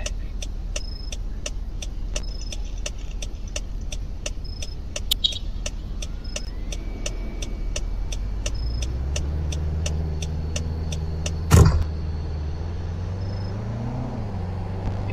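A small car in the Roblox game Greenville idles with a steady hum and regular ticking clicks, then revs and its engine tone rises and wavers as it drives and turns, with a brief sharp clunk partway through.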